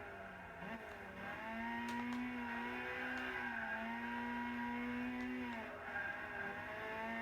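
A turbocharged Lotus Elise races in Gran Turismo 6, its engine droning and revving continuously, with the pitch rising and dipping through gear changes, steady and fairly quiet throughout.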